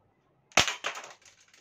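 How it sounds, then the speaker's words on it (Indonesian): A single sharp Glock 17 pistol shot cracks close by, followed by a brief ringing decay and a few faint trailing clicks. "Tembakan kedua."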